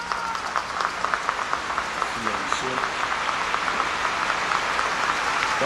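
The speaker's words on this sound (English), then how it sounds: "The people are applauding because the Pope has just named him a saint" A crowd applauds at the Pope's canonization ceremony naming Juan Diego a saint, a steady wash of distant clapping that continues throughout, with a voice speaking over it.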